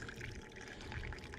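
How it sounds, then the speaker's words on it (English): Gasoline drains from the carburetor of a 1970 Plymouth Duster with a 340 engine, a steady close trickle and pour of fuel running continuously with no talk over it. "Drain a little bit from the carburetor in there."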